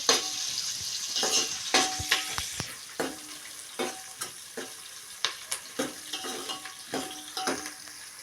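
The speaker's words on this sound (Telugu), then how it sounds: "ఇప్పుడైతే కరివేపాకు వేస్తున్నా. మా చెట్టు కరివేపాకు కొంచెం వేగితే" Curry leaves crackle and spit in hot oil while tempering for sambar, a close, irregular burst of sharp pops and sizzling over a steady frying hiss.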